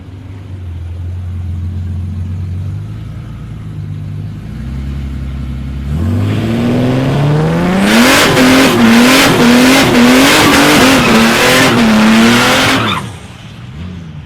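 Small EV Fairmont street car running a drag strip lane at a test-and-tune night, idling low before a loud launch, then a rising, roaring engine pulling through several gear changes up close before cutting off sharply.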